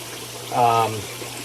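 Water splashing briefly from a pond filtration outlet into a sitting tub, a short swell of trickling and pouring flow over a steady low hum.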